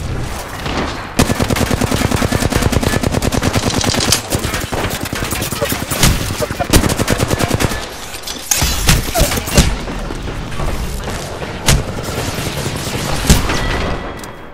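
Rapid, loud bursts of automatic and single-shot gunfire in the video game Apex Legends, Season 16, coming in dense volleys with brief pauses between exchanges.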